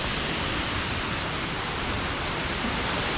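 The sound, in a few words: waterfall Rhaeadr Mawddach in Wales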